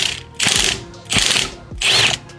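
A ratchet wrench loosens the 19 mm steering wheel nut on a Nissan GT-R R35, giving three close, loud bursts of rapid clicking separated by short pauses, with no talking.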